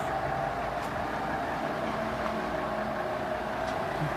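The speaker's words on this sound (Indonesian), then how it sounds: "Setelah ranting-ranting selesai dibersihkan, lokomotif melanjutkan perjalanan" A sugarcane railway locomotive on a trial run of the Sukoreno lori line at PG Semboro crawls slowly past market stalls, giving a steady low mechanical rumble and hum with no talk over it.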